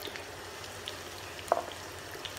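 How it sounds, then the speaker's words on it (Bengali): Onions frying in oil for a Dhaka-style hilsa bhuna, a faint steady sizzle with a soft stirring scrape partway through, no talking. "আমি নেড়েচেড়ে পেঁয়াজগুলো ভেজে নিচ্ছি।"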